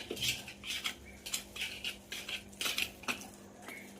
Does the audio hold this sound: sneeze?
no